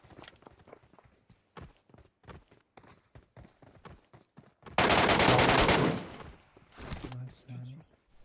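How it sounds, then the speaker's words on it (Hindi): A short, dense burst of rapid gunfire in PUBG Mobile erupts after quiet footsteps and scattered sounds, followed by a few more shots. "कूदते हुए बिल्कुल हवा से गोलियां चलाता हूँ, हवा में गोलियां चलाता हूँ"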